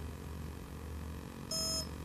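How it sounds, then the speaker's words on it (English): A TowerPro MAG 8 18A ESC gives one short high electronic beep to mark the LiPo setting, sounding over a low steady motor hum. "so wait for one beep"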